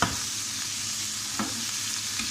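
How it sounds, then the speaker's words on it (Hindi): Liver (kaleji) fries in oil on a tawa and is stirred, giving a steady close sizzle with a couple of soft scraping strokes. "कलेजी को हम अच्छी तरह भूनेंगे"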